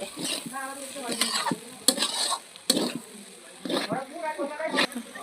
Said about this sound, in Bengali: এবারে মশলা দেওয়ার পর আমি এগুলোতে মিশিয়ে দিচ্ছি ভালো করে